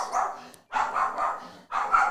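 A dog barks three times in close succession, each bark a full, breathy burst separated by short silent gaps, loud and near with no talking.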